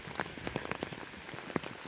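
Steady rain falls on a hard surface, with scattered louder drops spattering close by; no voices.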